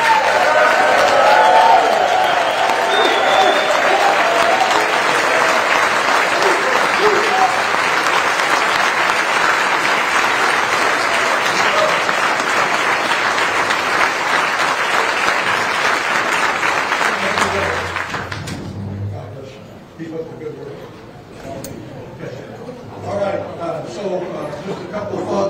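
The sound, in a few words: audience applause for the governor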